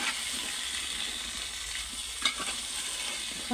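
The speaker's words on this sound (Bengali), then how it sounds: "আমি মশলাটাকে কষিয়ে নেব ভালোভাবে" Spice masala sautés in a pan with a steady, broad sizzle and occasional soft stirring scrapes, the frying continuous and fairly close, with no one talking.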